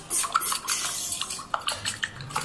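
Light clinks and scraping of a utensil stirring eggs and chopped capsicum in a pan, a series of irregular taps and scrapes, close and fairly quiet with no talk.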